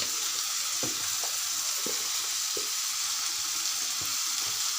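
Garlic and cumin paste sizzles steadily in a hot pan, a constant close hiss broken by a few soft taps and stirring knocks.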